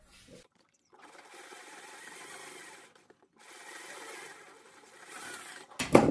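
A sewing machine stitches fabric for a suit neckline in several short bursts of fast, even whirring, separated by brief silent pauses and ending with a louder clunk.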